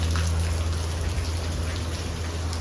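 Steady heavy rain pours down in a dense, constant hiss, with a low steady hum underneath.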